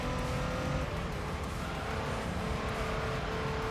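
A Porsche 992 rear-engine car in the video game Gran Turismo, its engine droning steadily and loudly throughout with continuous road and tire noise.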